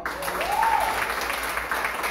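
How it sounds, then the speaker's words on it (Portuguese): Church congregation applauding at a service, a continuous, fairly even patter of clapping from a crowd, with a brief sung or called tone rising and falling above it. "Uma salva de palmas, pastor"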